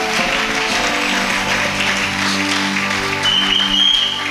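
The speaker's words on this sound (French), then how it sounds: "Est-ce qu'on peut acclamer le Seigneur?" A church congregation applauds and acclaims the Lord in steady, loud applause that fills the room, with sustained music tones underneath and no clear talk.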